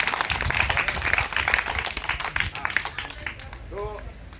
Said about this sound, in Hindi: तो इस पर ताली बजाइए इनकी बेटियों के लिए